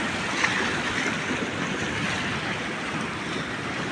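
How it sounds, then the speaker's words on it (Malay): Strong, heavy surf pounds the shore near a fishermen's jetty at Tanjung Rhu during a big high tide, a steady broadband roar of crashing waves with no wind in the trees, continuous and close throughout. "Tapi ombak, oh, sangat-sangat kuat"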